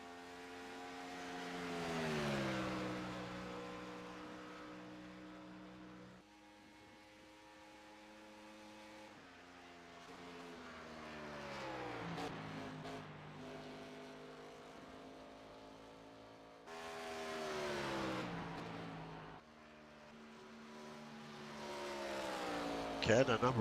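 Race cars lapping Indianapolis Motor Speedway in iRacing, engines droning and rising and falling in pitch as cars sweep past in repeated waves, with a commentator talking over them.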